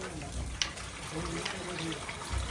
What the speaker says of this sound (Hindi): टैंकी भी हमारी निकल के फिर डायरेक्ट पानी आ रहा है, मैं टूटी भी नहीं बंद कर सकती।